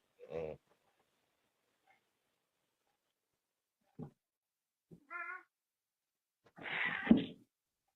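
A cat gives several short meows and cries at intervals, ending in a louder drawn-out yowl, all fairly faint with quiet gaps between, no talking.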